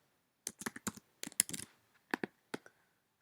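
Keys tapped on a computer keyboard while a login password is entered, in quick irregular bursts of clicks separated by short pauses, close and fairly quiet with no talking.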